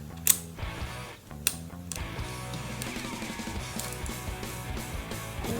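Lego pieces are picked up and pressed into place while building a Lego safe: a few sharp, close clicks early on, then softer plastic rattling and handling sounds.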